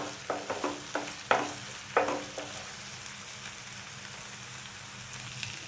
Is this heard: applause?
no